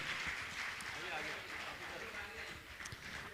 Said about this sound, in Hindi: उनके सम्मान में जोरदार तालियों देकर उनका सम्मान करें